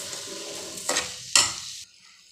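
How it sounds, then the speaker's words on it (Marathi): Sugar is stirred into a dish in a pan, giving a soft frying hiss with two sharper spoon scrapes against the metal before the sound cuts off abruptly; no talking. "साखर आपण यामध्ये छान मिक्स करून घेतलेली आहे"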